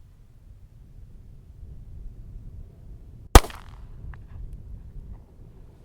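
A single sharp Glock pistol shot fired from five yards over a chronograph with 115-grain RMR reloaded ammunition, one loud crack standing out against faint outdoor background noise.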